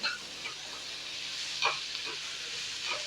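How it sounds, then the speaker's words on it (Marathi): Onions and green chillies fry in a pan over medium heat with a soft, steady sizzle. Occasional stirring scrapes rise briefly above it, fairly quiet and close. "आता या कांद्याबरोबर ही उरलेली मिरची होऊन जाईल"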